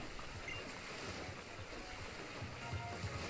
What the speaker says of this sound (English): Here's a bubbling thingy.